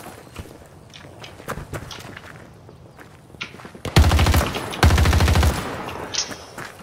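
Gunfire in the video game Battlefield 2042: scattered single shots and footstep-like taps, then two loud sustained bursts of rapid automatic fire close by, with quieter shots trailing after.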